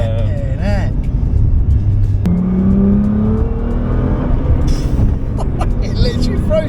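Nissan GT-R accelerating hard from inside the cabin, a loud engine note rising in pitch with a gear change partway through, while people talk over it.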